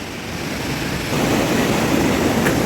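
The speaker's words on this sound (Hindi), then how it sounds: "ये देखिए वाटरफॉल की सुंदरता" A waterfall on a nature trek pours with a dense, steady rushing roar, broadband and constant, growing slightly louder partway through with no voices over it.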